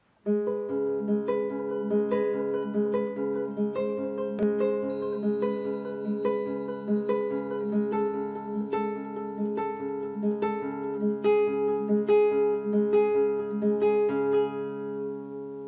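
Classical guitar played alone, plucked notes rolling through steady broken-chord patterns with a melody picked out above, moderately quiet throughout, from Domeniconi's "Koyunbaba", second movement.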